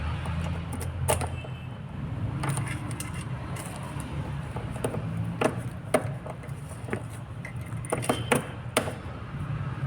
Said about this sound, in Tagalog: Yan yung ipapasok yung susi.